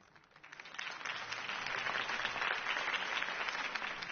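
Steady applause from a large audience, many hands clapping in a dense, continuous wash that swells in quickly and holds at full strength.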